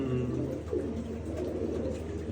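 Perched pigeons give a low, continuous cooing at close range, a dense murmur with no talk over it.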